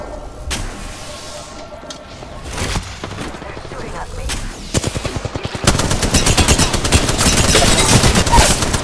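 Video game gunfire: scattered shots early, then dense rapid bursts of automatic fire building toward the end, loud and close with shield charging effects, under intermittent talk.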